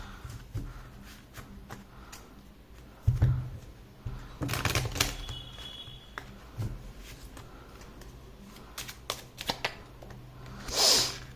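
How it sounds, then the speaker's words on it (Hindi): Tarot cards being shuffled by hand in soft, irregular bursts of riffling and slapping, with a few louder snaps, close and alone in a quiet room. "Nevertheless, we will keep on shuffling."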